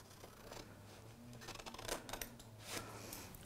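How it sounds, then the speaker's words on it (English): Scissors cutting paper along a fold for a craft project, a few quiet close snips and crisp paper crackles in short bursts. "We're going to take our scissors and we're going to cut right along this crease"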